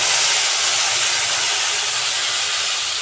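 Tomato paste and peanuts sizzling in hot oil with tempered spices, a steady loud frying hiss that continues unbroken for the whole moment.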